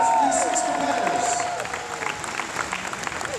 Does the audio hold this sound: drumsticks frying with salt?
no